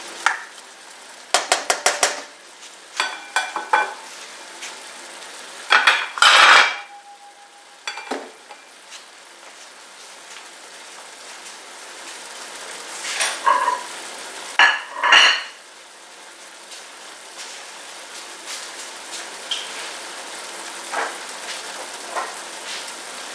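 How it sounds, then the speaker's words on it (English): Shrimp cooking in a pan for pasta: a low, steady sizzle runs beneath scattered metallic clinks and scrapes of a utensil against the pan, coming in short bursts with quieter gaps. "You cook the shrimp for a few minutes."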